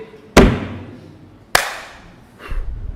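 Two sharp slaps of palms patted together for tayammum, spaced about a second apart and followed by a softer brushing sound, close and clear in a quiet room.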